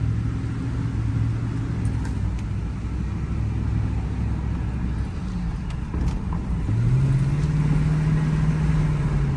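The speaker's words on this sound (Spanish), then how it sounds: "Se siente muy bien, fuerte el motor." Steady, loud running of a Ford F-150 engine after an ignition coil swap for a cylinder 8 misfire, with a continuous low rumble throughout and a slight rise in pitch near the end.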